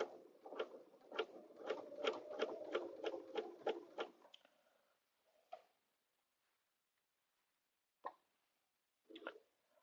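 A sewing machine stitches binding onto a vinyl zipper bag, giving a close burst of rapid, even clatter lasting about four seconds. Then it falls silent, broken only by a few isolated clicks.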